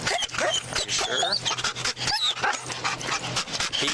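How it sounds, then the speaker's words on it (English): Police drug-sniffing dog barking and yipping excitedly near a truck, with repeated sharp barks and whimpers close by, mixed with people talking over it. "The dog caught it quick."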